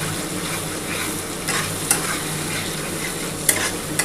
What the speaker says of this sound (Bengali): আর ভালো করে একটু নাড়াচাড়া করতে হবে।